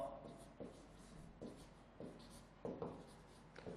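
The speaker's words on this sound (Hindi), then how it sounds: "अब हम लोग लिखेंगे कैलकुलेशन" Pen scratching across paper while a calculation for maximum and minimum normal stress is written out by hand, in a run of short strokes with quiet gaps between them, fairly faint and close.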